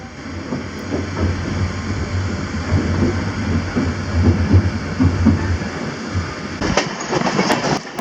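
Steady rumble and rhythmic clatter of a train heard from inside a nearly empty first-class scenic carriage in Sri Lanka, a continuous ride noise with a faint hiss and some rattling near the end.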